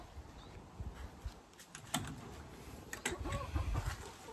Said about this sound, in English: Those are all my chickens